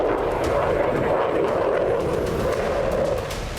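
The engines of a B-2 Spirit stealth bomber give a steady, loud, broad roar that holds evenly throughout and eases slightly at the end, with no talk.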